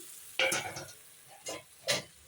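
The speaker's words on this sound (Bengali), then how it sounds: "আলুগুলো দিয়ে দিলাম এখন আলু আর মশলাটা ভালো করে কষিয়ে নেব" Potatoes and spice paste fry in a pan while being stirred, with three scraping, sizzling bursts, the first longest, over a faint background hiss, close and quiet, with no voices.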